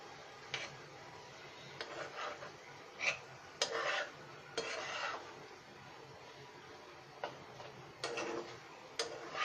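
Fried rohu fish roe and softened tomato are stirred in a pan: faint, irregular spatula scrapes and light metallic taps come in short bursts separated by quiet gaps.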